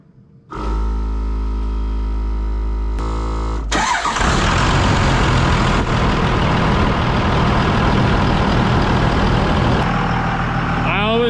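A Cummins diesel engine in a 2500-3500 pickup truck cranks for a few seconds, fires up with a loud roar and settles into a steady, rumbling idle close by.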